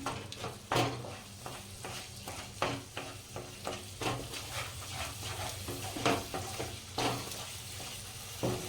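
Mashed boiled potato fries in sev usal gravy in a pan, a close sizzling hiss broken by repeated rhythmic stirring scrapes and knocks of a spoon, with no talking.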